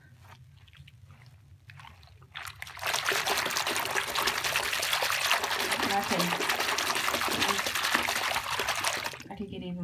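Bath water runs and splashes steadily in a tub, a loud, close rushing that starts after a quieter moment with a spoken word and continues unbroken for several seconds.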